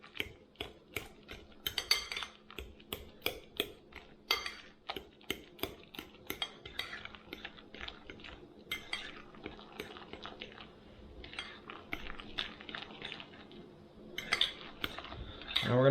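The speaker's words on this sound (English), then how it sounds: "Now we're going to mix this all up and keep mixing it until it gets really mixed well." A utensil clinks and scrapes repeatedly against a bowl while keto pandesal dough is mixed with hot water, in quick irregular taps and scrapes close by for the whole stretch.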